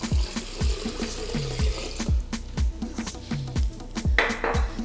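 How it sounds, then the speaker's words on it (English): Water pours into a Nama M1 plant-based milk maker, close gurgling glugs arriving in a steady rhythm of repeated bubbly bursts, with no talking. "let's go ahead and pour our water inside"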